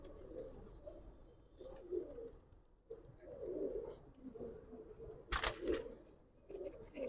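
A Giribaz pigeon cooing softly close by, repeated low rolling coos in uneven bursts, with a short sharp click near the end over a quiet background.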